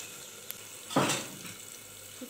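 Dried red chillies and cinnamon dropped into hot refined oil, a soft tick followed by a brief burst of sizzling that fades quickly, close and fairly quiet.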